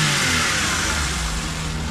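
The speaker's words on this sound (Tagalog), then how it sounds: "So RPM natin. Ayan, so powerful pa rin yung ating makina yun." A 660cc non-turbo, 59-horsepower engine in a lifted Suzuki Every Wagon revs loudly and steadily up close, a sustained mid-pitched drone with no talking.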